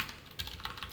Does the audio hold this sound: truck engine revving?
no